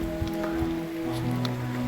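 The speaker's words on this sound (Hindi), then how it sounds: "जैसे बारिश ही बारिश हो रही है माशाल्लाह" Steady rain falling on a muddy village, heard as a continuous soft patter of drops with a low constant hum beneath it and no talking.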